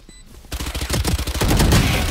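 Rapid automatic gunfire from a competitive video game shooter starts abruptly after a short quiet moment and becomes a loud, dense burst of shots.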